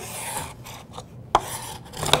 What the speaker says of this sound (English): Now I'll remove the glue from the other side.